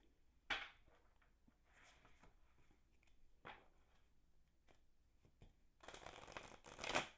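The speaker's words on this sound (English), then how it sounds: "So let's get some cards shuffled." Cards being shuffled: soft papery riffles and flicks, then a longer, louder riffle near the end, close and quiet with no talking.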